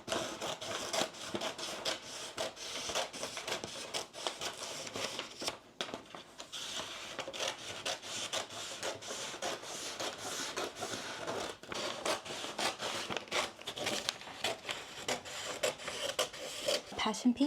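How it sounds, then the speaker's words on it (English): Scissors cut a paper dress pattern piece in a close, steady stream of rasping snips and paper rustle that lasts the whole stretch, with no talk over it. "Okay, so I've somewhat got a bit of a pattern here, and I think we're ready to cut it out."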